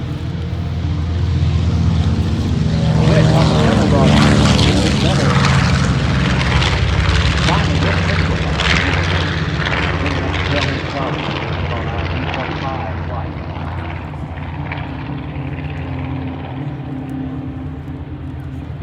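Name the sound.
airplane flying at OshKosh AirVenture airshow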